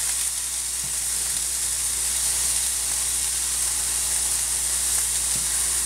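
Food frying in oil in a pan on turned-down heat, a loud, steady, unbroken sizzle close by with no voices.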